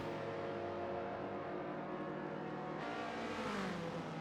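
Subaru WRX STI engine in a racing video game, a continuous high-pitched rev that holds steady and then shifts pitch near the end while braking into a chicane, clear and alone with no talk.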